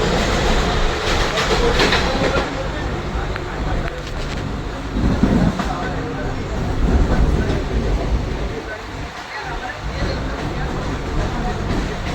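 A departing train rumbles and rattles with a rhythmic clickety-clack, loud and close, with indistinct voices in the background.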